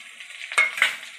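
Garlic cloves hit hot oil in a pan for palak paneer, giving a bright, hissing sizzle with two quick spitting bursts and a clink of a utensil, close and short.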